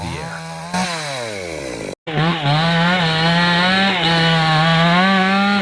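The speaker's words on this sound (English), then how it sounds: "The chainsaw roars to life, echoing through the forest." A chainsaw cutting into a tree trunk in a forest: a loud, near engine whine that rises and falls in pitch as the blade bites, broken by one very short gap, with no speech over it.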